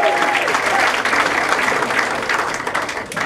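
A comedy club audience at the Orlando Improv applauds during a comedy benefit show, with dense, steady clapping and crowd noise that holds loud for the full stretch and eases slightly toward the end.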